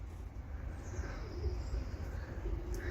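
Soft pigeon coos and faint bird calls over a low rumbling background, no talking, fairly steady throughout.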